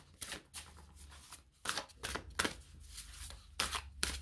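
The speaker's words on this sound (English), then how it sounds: "let's give these cards a shuffle and see how they shuffle" A paper-feel tarot deck is shuffled by hand, giving several soft riffling, flapping bursts separated by brief pauses, close and quiet, with no talking over them.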